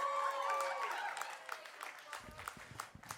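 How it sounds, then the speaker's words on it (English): Scattered clapping from a small stand-up comedy audience, thinning into a few sparse claps, with a held musical tone fading at the start. "Round of applause for me and Pepsi and also Crystal Pepsi."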